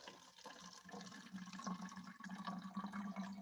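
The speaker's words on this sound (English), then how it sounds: "I'm going to pour my mixture of warm water, yeast, and sugar" Warm water mixed with yeast and sugar is poured into a plastic water bottle, a quiet, uneven gurgling trickle of liquid that swells and fades over a few seconds.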